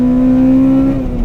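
A Honda Civic EP3 Type R engine drones steadily and loudly on the Nürburgring, its pitch sagging slightly near the end as the driver shifts into second gear.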